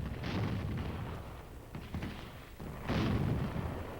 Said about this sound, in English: And so, a howitzer lets one go.